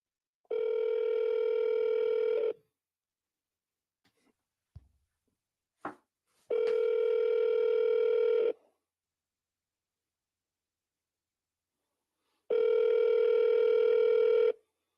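An outgoing telephone call: a long steady tone, a few short dialing clicks and beeps, then two more long ringback tones with silent gaps between them, clear and close.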